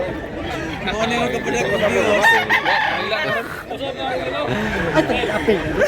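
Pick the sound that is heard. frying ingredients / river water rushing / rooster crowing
rooster crowing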